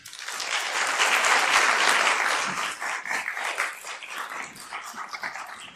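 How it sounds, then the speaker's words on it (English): An audience at a health equity summit keynote applauds Dr. Jenkins. The clapping swells quickly to a full, steady roar, then breaks into scattered, fading claps toward the end. "One more round of applause for Dr."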